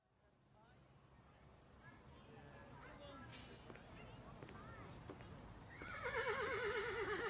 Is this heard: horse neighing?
yes